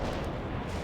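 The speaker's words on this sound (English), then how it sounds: "Launching AT-4 at the target." Rocket launch of an AT-4 in the World in Conflict war game, a dense continuous roar of boom and rumble filling the whole short moment, loud and unbroken, without any talk.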